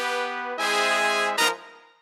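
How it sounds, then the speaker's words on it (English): Big band brass section holding a steady sustained part in a big band arrangement, loud rich chords with two punchy accented hits. "Then the brass, they kind of have like the more steady part."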